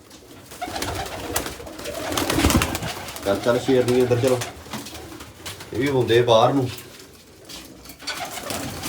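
Pigeons coo in low, repeated throaty bursts close by in a pigeon loft, while someone speaks over and between the calls.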